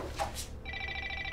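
A mobile phone rings from inside a bag, its electronic ringtone tones fairly faint and slightly muffled, starting after a brief rustle and continuing steadily.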